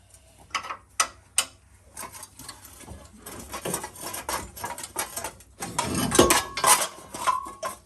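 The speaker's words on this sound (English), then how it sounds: "All right, it's time to put these bolts back in." Metal clinks and clatters from bolts being handled and fitted while reassembling the front end of a 2005 Chevrolet Trailblazer 4x4 in a garage. Irregular close taps and rattles are followed by a louder scraping clank near the end.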